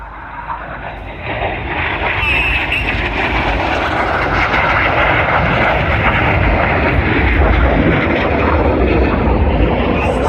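Red Arrows jets roar past at an air display at Shuttleworth, a loud, sustained engine rush that swells over several seconds with no voices.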